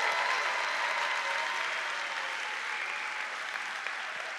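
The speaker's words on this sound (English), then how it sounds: "please give us one more round of applause for these student developers who've done such amazing work" A large conference audience at Google Cloud Next '19 applauds student developers, a steady, full wash of clapping that slowly tapers over a few seconds.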